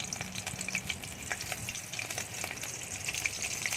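Close, busy sizzling and crackling of prawn pakora deep frying in oil, with scattered pops over a steady hiss.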